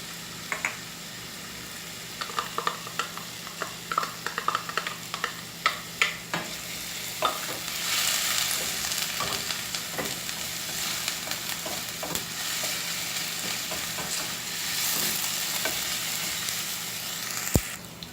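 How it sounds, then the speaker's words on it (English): Chopped onion and garlic sauté in oil in a pan, a steady close sizzle that builds and hisses louder midway, with scattered clicks and scrapes of stirring early on and no talking. "I'm just going to saute the onion and the garlic for a few minutes."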